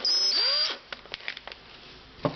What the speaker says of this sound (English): So we'll drill those 8 holes real quick.